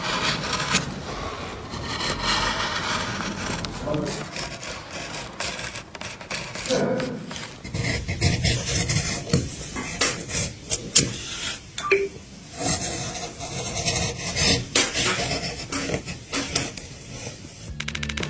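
Irregular scraping, clicking and tapping of tools cutting into wood, with bursts of rasping and knocking throughout and no talking.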